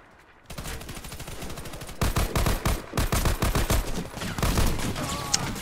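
Automatic rifle fire from the AK-47 Gold in the online shooter Warface: a quick first burst, then repeated rapid bursts of close gunshots from about two seconds onward, loud and dense with no talking.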